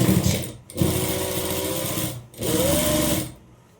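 A sewing machine stitches a frock in two rapid whirring bursts separated by short pauses, close and fairly loud, then stops.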